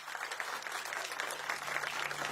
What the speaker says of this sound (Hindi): अपने बेटे अपने भाई का जोरदार तालियों के साथ स्वागत करें।